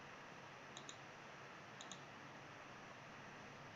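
Two pairs of light computer keyboard clicks, a Control V paste shortcut pressed twice, faint and brief over steady background hiss, with no voices.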